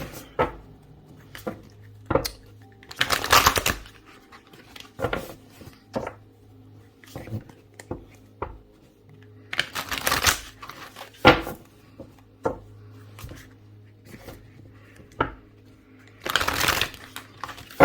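Playing cards are riffled and shuffled in several bursts, separated by soft handling clicks and taps of cards being set down.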